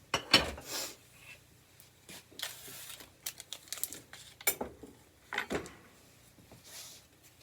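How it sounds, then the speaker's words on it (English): Walnuts for banana cranberry muffins are chopped by hand in a series of quiet, irregular knocks and crunchy scrapes on a board, with pauses between bursts. "Now we're going to do, again, chopping our nuts."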